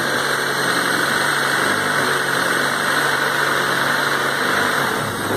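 A 2000 Honda Civic engine with roughly 110,000 km idles smoothly nearby, giving a steady, even hum with light vibration that holds for several seconds without any speech.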